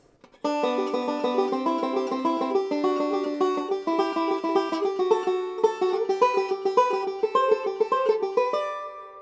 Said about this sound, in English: we're going to be doing 2 alternate index rolls per double stop